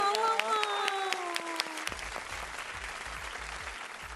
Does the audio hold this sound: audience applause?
yes